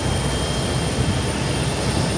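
A Ryanair jet airplane roars overhead in a steady, broad rumble that stays constant throughout, fairly loud with no talking, heard at Birmingham.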